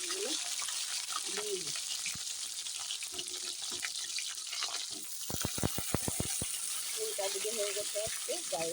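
Whole cauliflower florets sizzle in hot oil in a kadai, a bright steady hiss running throughout, with a quick run of utensil taps midway and someone talking over it.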